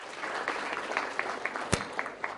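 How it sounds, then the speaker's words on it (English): An audience at a lecture gives a round of applause, a continuous crackle of many hands with a few sharper individual claps popping out, including one loud close clap midway. "Special round of applause for those who've taken the plunge."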